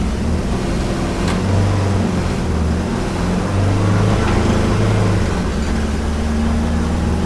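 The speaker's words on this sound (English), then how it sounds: "A very sticky throttle." A car engine with a sticky throttle drones loudly and continuously, its pitch rising and falling in uneven surges, alone without talk.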